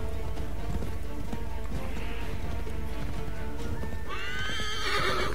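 A horse gallops in Assassin's Creed III, its hooves pounding out a steady clip-clop rhythm with a busy game soundscape behind. Near the end a loud, close whinny rises over the hoofbeats.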